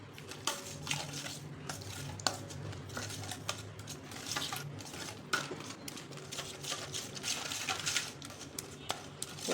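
Warm milk is stirred into a wheat-flour cheese dough for crisp cheese shankarpali, giving soft scraping and occasional light utensil clinks against the bowl, fairly faint, while a voice talks throughout.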